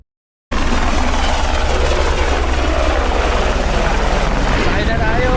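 An A-Star helicopter is heard up close: after a brief silence, a loud, steady roar of turbine and rotor wash kicks in and continues unbroken, with wind buffeting the microphone.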